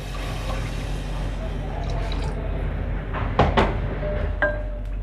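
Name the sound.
water poured into a cooking pot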